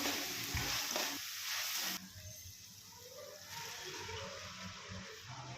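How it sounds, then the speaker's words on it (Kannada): Green chilies and salted tomato fry in a pan on a home stove, giving a steady, close sizzle and crackle that runs throughout with no talking. "ಹಸಿರು ಮೆಣಸಿನ್ಕಾಯಿ ಹಾಕ್ಕೊಂಡು ಅದನ್ನು ಫ್ರೈ ಮಾಡ್ಕೋತಾ ಇದ್ದೀನಿ"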